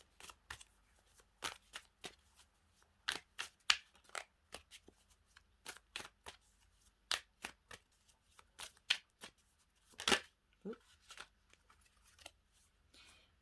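A deck of tarot cards is shuffled by hand up close in quick, irregular riffles and snaps, quiet and with no talking.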